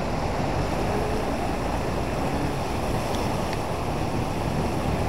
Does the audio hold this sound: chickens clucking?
no